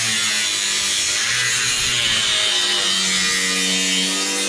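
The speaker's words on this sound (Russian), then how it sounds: "Болгаркой по металлу." Angle grinder cutting through metal on a Moscow construction site, a loud continuous harsh high-pitched grinding hiss with a steady underlying motor hum throughout.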